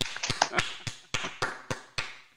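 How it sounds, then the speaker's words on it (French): Scattered, uneven hand claps come from a few people, about a dozen sharp close claps that thin out into single slaps, fairly quiet with no voices. "Génial, vous pouvez l'applaudir"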